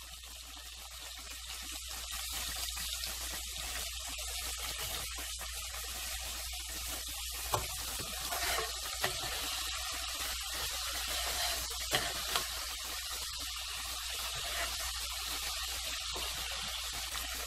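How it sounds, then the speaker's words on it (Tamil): Curry leaves hit hot oil for a Bisibelebhath tempering, giving a continuous crackling, spattering sizzle, faint and even throughout, with a few sharper pops and no talking. "அடுத்து இதுல கருவேப்பிலை போட்டுக்கோங்க"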